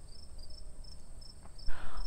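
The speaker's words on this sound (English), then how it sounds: "now you hear crickets" Crickets chirp in short, high, repeating pulses over a quiet background, ending with a brief rustling thump.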